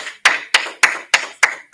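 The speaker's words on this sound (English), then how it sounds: "Clap it up." Six sharp, evenly spaced claps ring out alone, each a crisp slap with a short decay and clear gaps between, loud and close, at a history class gathering.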